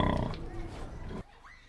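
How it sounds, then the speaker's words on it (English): A pink pig in its sty grunts and snorts in a low, rough burst lasting about a second, then the sound drops to quieter background. "Hello, pink pig."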